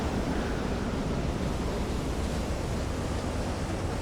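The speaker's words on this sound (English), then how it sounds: "We turned into the waves here." Ocean waves wash and churn against a U-boat's hull in Silent Hunter 3, a loud, steady broadband rush of surf and wind-blown spray that fills the whole scene without letup.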